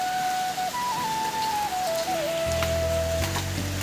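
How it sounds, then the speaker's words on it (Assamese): Heavy rain falls hard and steady in a dense continuous patter, with a tonal hum running underneath and no talk. "ইয়াত বৰষুণ দি আছে পুৰা জোৰছে"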